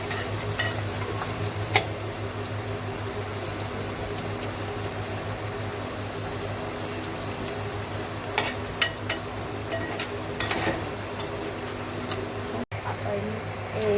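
Onion sizzles in hot oil in a pan with garlic, a steady close crackle and hiss broken by a few stirring clicks and knocks, with brief speech in the background.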